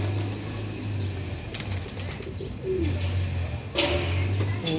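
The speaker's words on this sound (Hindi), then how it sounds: "ये आ गया दूसरा कबूतर" A flying pigeon kept for a competitive flight game lands at the loft with bursts of wing flapping, while low cooing from other pigeons continues nearby throughout.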